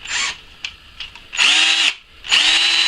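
A Ryobi P1811 cordless drill whirs in short bursts, several quick spins followed by two longer steady runs, close by with no talking.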